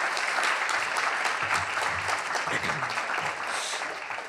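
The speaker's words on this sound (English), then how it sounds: "Can we get one more round of applause for these guys?" Continuous crowd applause fills a conference hall after a climate resilience panel, steady and moderately loud throughout, with faint voices mixed into the clapping.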